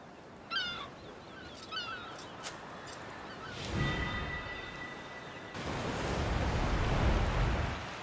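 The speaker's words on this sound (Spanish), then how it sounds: "Debe de ser un ave marina. ¿Una gaviota?" Seagull calls ring out over ocean waves in the video game A Plague Tale: Requiem, a few sharp cries early on above a low surf wash, then a steady roar of breaking waves swells up.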